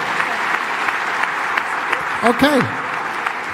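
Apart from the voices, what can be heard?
audience clapping hands in applause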